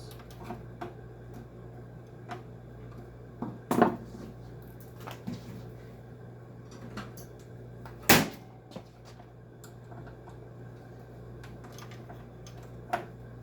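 Final screws being worked out of a junk dehumidifier during a teardown with a small Phillips screwdriver: faint clicks and scrapes over a steady low hum, with two sharper metallic clanks standing out, and no talking.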